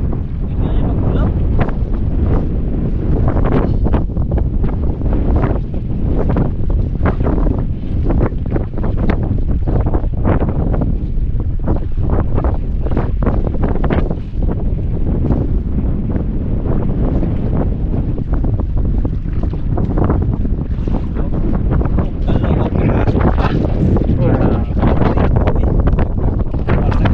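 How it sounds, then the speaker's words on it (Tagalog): Strong wind buffets a small fishing boat out at sea, a loud, continuous roar of gusts across the microphone that lasts throughout, with water and surf mixed in. "Hangin."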